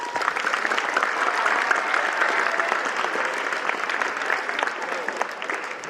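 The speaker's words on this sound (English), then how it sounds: "So let's give them a round of applause." An audience claps steadily at a seventh grade fall school awards assembly in praise of a winning sports team, a dense, even wash of applause that holds for several seconds before easing slightly.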